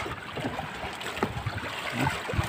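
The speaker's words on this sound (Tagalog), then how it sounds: "Grabe yung alon." Waves and flowing water during a fishing trip: irregular splashing and gurgling, close and moderately quiet, coming in uneven surges with no voices.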